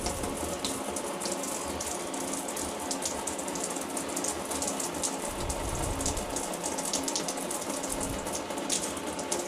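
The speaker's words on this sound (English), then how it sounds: "you'll want to open up the valve of the shower to kind of drain out the remaining water" Water runs steadily out of an opened shower tub valve fitted with a Moen 1200 cartridge, a continuous close hissing splash draining into the tub with no voices.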